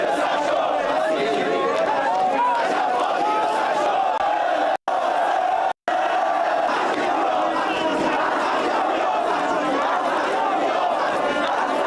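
A dense crowd at a large candlelight vigil roars with overlapping shouts, chatter and cheering, a loud continuous wall of voices broken by two brief dropouts.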